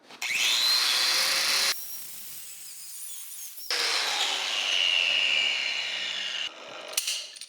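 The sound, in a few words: thin cutoff wheel cutting metal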